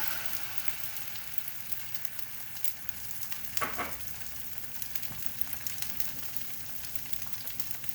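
Beaten egg scrambling in a hot pan for fried rice, giving a soft steady sizzle with a brief louder stir or scrape near the middle, close by and alone without talk.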